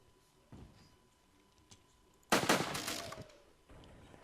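Video game shotgun blasts, a faint early shot followed by one sharp, loud report that rings out and decays, then a quieter thud near the end.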